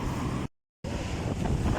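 Strong wind and rough sea waves on the Alexandria seafront at Shatby during a winter storm: loud, close, continuous roaring gusts buffeting the microphone, cut by a brief full dropout before the roar resumes.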